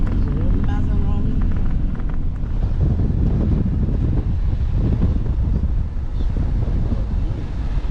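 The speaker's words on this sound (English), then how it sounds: "Well, it's a bit windy up the top." Strong wind buffeting the microphone on a hilltop near Almería, a loud continuous roar with gusty swells throughout.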